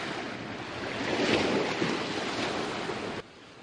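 Sea waves wash steadily in a sheltered harbor at Monhegan Island, Maine, a soft broadband surf swelling midway and then easing. The water sounds fairly near, with some wind noise and no voices.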